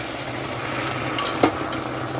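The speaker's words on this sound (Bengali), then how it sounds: "ডালটা ধোয়ার জন্য এখানে আমি একটু জল দিয়ে দিচ্ছি" Water poured over dry-fried moong dal in a hot pan to rinse it, giving a steady close hiss and sizzle with a brief louder splash near the end.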